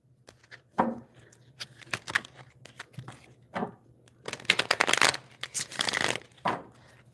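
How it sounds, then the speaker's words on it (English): Playing cards riffle and snap in several quick bursts, close and crisp, with short pauses and soft handling noises between shuffles. "I know some people love to hear the sound of card shuffling."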